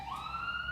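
Police sirens wail in the distance, a steady rising tone that sits faint over low background rumble, with no voices.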